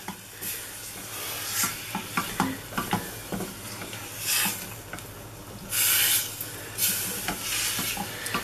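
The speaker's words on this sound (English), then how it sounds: "and just keep stirring it" A Wispa Gold slice mixture melts in a pan over low heat while it is stirred, with intermittent scraping and rubbing strokes against the pan and a faint sizzle underneath.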